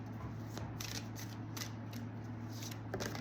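Tarot cards are shuffled in quick riffles and slides, soft papery flutters repeating at a brisk rhythm, close but fairly quiet over a low steady hum.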